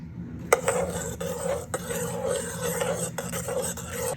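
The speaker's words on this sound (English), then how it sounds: "3 tablespoons of olive oil. It's just extra virgin olive oil. Okay, I'm gonna stir that together." A spoon stirring extra virgin olive oil into a bread dough mixture for focaccia in a bowl, with repeated scraping and knocking against the sides in an uneven rhythm, close and fairly quiet.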